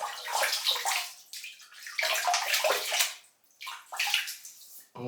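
Running water from a tap splashing over and soaking a shaving brush, close and hissing in uneven bursts as the brush moves in and out of the stream, with brief pauses.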